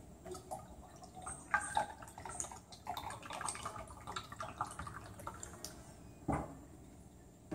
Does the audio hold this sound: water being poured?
yes